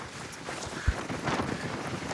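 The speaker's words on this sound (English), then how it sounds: "It is crazy wind gusts" Gusty wind buffets the microphone in an unsteady rush on a cruise ship's open deck in Alaska, with a brief thump partway through and no one speaking.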